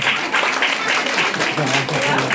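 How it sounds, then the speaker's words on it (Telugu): At an International Women's Day gathering organised by a BC association, an audience claps in dense, steady applause throughout, with voices mixed into the crowd noise. "ఒకసారి నాకు చప్పట్లు కొట్టండి."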